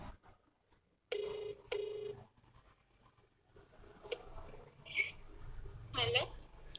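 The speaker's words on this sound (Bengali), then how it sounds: "রিং হচ্ছে" Two tones of a phone ringback signal sound close, one after the other with a short gap between them, over quiet background and some faint handling noises.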